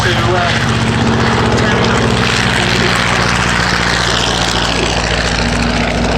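An Avro Tutor propeller training aircraft drones loudly and steadily, its engine holding a strong low hum with layered harmonics, while a voice talks over it throughout.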